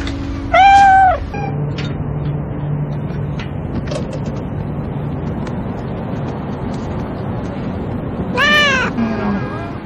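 A cat gives two clear meows, one near the start and another near the end, over a steady low mechanical hum and murky background noise.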